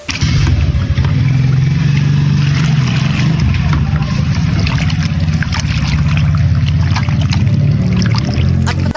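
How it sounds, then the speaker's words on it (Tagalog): Chopped chicken is rinsed in water, with splashing and sloshing over a loud, constant low hum and scattered knocks close by. "siyempre babanlawan muna natin yan mga parekoy hanggang sa luminaw ang kanyang tubig"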